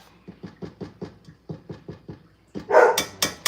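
A dog barks in a rapid run of short, evenly spaced woofs at moderate distance, then erupts into a louder, sharper cluster of barks at the end, heard in a home kitchen.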